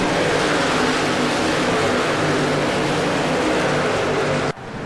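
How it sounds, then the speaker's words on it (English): Race trucks roaring in a racing video game, a loud continuous engine drone with steady pitch bands that cuts off abruptly near the end. "You're going to hear a lot of trucks shifting, believe it or not."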